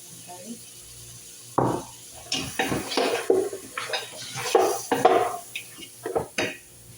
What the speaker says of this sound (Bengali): পেঁয়াজ আগে ভাজি করে নিই হালকা। ভাজি করে নিয়ে নাড়াচাড়া করে এখানে রসুন আছে।